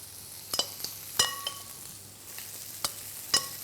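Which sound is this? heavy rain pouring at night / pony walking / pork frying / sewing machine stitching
pork frying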